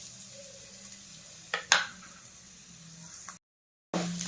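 Coconut pieces dropped into hot coconut oil in a kadai give a few short bursts of sizzle and clatter, then a soft, steady frying hiss, close by.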